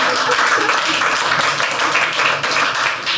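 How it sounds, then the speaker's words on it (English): A comedy audience clapping in a dense, continuous burst, loud and close throughout with no clear voices on top. "Thank you guys for clapping at that."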